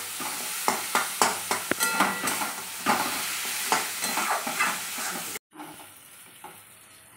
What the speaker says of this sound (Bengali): এবার আমি এটা কষিয়ে নেবো ভালো করে